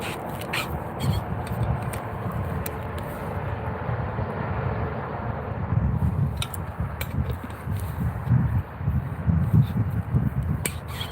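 Steady distant highway traffic rumbling low and continuous beside a trout river, a broad wash of road noise with no talk, faint ticks and rustles on top.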